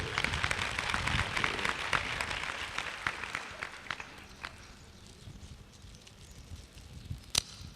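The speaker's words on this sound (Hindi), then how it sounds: "ताली बजाओ, ताली" A satsang audience claps together in dense, loud applause that fills the room for several seconds, then thins out and fades into scattered claps.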